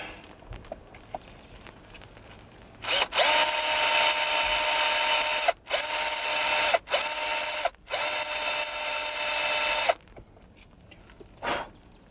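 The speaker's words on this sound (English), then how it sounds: "I do not recommend you drill in your car because I made a complete mess." Power drill running inside a Mazda Miata cabin, several sustained whining bursts over about seven seconds with short pauses between them, then a final brief burst; loud and close.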